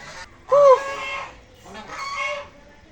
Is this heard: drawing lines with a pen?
no